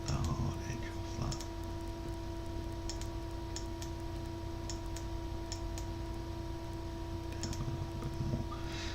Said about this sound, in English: You can probably hear the clicking of the mouse.